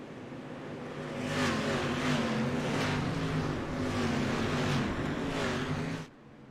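Race cars at full throttle on the dirt oval of Cedar Lake Speedway during the John Osman Memorial, a loud sustained engine roar with rising and falling revs as the pack runs under green, cutting off sharply near the end.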